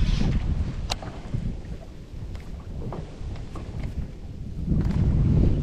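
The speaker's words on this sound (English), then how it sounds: "I guess you'd call that a gust." A gust of wind buffets the microphone on a bass fishing boat, a rumbling low roar that dips briefly and swells louder toward the end, with faint water and boat sounds beneath.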